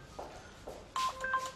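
A phone on a Turkish drama set sounds a short electronic ring tone after a few faint thumps, with beeping tones rising near the end over quiet room noise; no talking.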